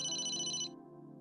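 Phone ringing in the Emio video game: a brief bright electronic ring tone that cuts off after a moment, leaving a soft musical hum underneath, with no talking.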